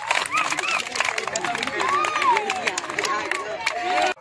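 A crowd at a children's kabaddi game claps in rapid, scattered bursts, mixed with excited chatter and shouts nearby.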